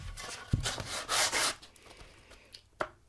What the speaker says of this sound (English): after you've sanded your life away for 20 or 30 minutes, maybe 10, it's time to do the edge and the end